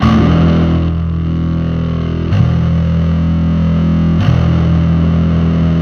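Thick, gritty metal bass guitar notes through distorted and clean amps together sustain with a blend of distortion and clean tone, changing pitch twice, loud and alone.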